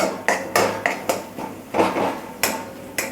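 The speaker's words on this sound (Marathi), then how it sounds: "मॅश करून घ्यायचं चांगलं या प्रकारे हलवून घ्यायचे" Roasted eggplant bharit being mashed and stirred in a pan, with about eight sharp metallic utensil knocks against the pan in an irregular rhythm, close and fairly loud, no talking.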